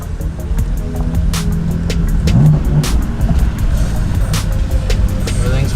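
A car pulling away, a steady engine hum and road rumble at close range, with a few clicks and light knocks over it.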